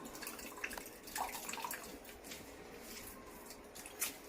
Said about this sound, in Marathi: असं पाणी चांगलं पिळून घ्यायचं आपल्याला